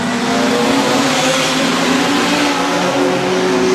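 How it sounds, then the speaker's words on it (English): Production sedan race cars at a dirt speedway in an Australian title heat, engines roaring loud and steady as the field accelerates away from the start, a dense continuous drone of many motors. "we're about to go green in heat number 13. Away and racing."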